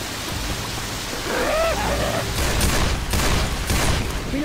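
Gunfire in the Left 4 Dead 2 video game on a highway level, a crackling burst of rapid shots followed by a few sharp louder bangs, no talking.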